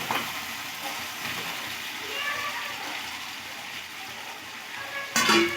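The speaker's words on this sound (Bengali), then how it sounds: "এবারে চিকেন, আলু আর ফুলকপি ভাজা সব একসঙ্গে দিয়ে দেবো।" Fried chicken, potato and cauliflower go into sizzling spiced oil, giving a steady soft frying hiss with a sharper splatter near the end, under a voice talking.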